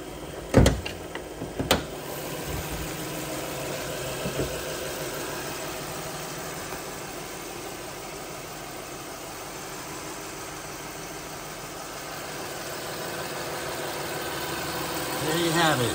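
A 2008 Toyota Solara SLE convertible's 3.3-liter V6 engine idles with a low, steady rumble after a couple of sharp clunks at the start; the hum continues evenly, fairly quiet.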